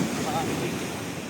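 Strong sea waves surge at a beach in a steady, close wash of surf with wind buffeting the microphone, continuous and fairly loud throughout the short stretch.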